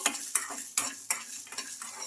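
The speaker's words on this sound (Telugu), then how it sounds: "ఇప్పుడు ఇందులోకి పల్లీలు కూడా వేసుకోవాలి ఇంకా మనకు ఈ పల్లీలు బాగా ఫ్రై అయిపోవాలి" Garlic cloves, ginger and peanuts frying in hot oil in a pan, a soft continuous sizzle broken by four sharp scrapes of a stirring spoon, close and without speech.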